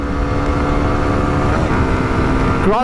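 A 125cc motorcycle, a TVS Raider 125 or Hero Xtreme 125R, drones steadily at speed with continuous engine hum and wind rush, loud and close throughout.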